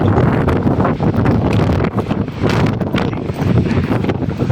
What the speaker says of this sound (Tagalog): Grabe talagang lakas ng hangin